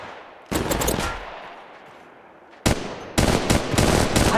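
Gunfire in the mobile game Apex Legends Mobile comes in loud rapid bursts: one short volley, a pause, then a sharper stretch of repeated automatic shots, close and alone.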